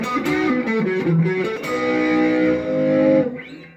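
A close Indio/Monoprice Retro Classic electric guitar, neck pickup, plays a short melodic phrase, then lets a sustained chord ring out and fade, with a touch of reverb from a PA.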